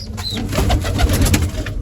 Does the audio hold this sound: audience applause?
no